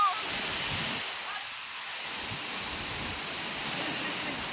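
Sudden heavy rain and strong wind sweep over a home, a loud, continuous broadband rushing roar with gusty rumble in the low end and no break in the downpour.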